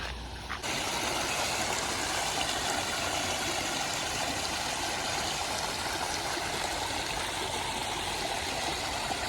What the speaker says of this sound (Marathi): मी हातपाय धुतो या पाण्यामध्ये